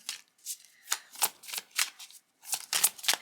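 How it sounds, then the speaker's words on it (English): A deck of tarot cards is shuffled by hand in a steady series of crisp riffling bursts, close and clear with no talking. "you might not be able to see me shuffling as much"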